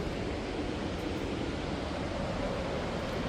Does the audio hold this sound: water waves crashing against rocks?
yes